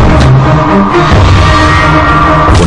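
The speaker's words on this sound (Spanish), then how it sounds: "Con el primer disparo falla." A single rifle shot rings out in a Revolutionary War battle scene, loud and close, amid a dense din of shouting and yelling soldiers.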